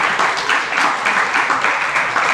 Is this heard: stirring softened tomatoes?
no